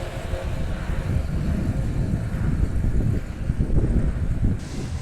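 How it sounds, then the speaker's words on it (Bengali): Strong wind buffeting outdoors on a highway, a loud continuous low rumble with gusty swells and no voices throughout. "বাতাসটা এত জোরে হচ্ছে যে আমাকে এগোতে দিচ্ছে না।"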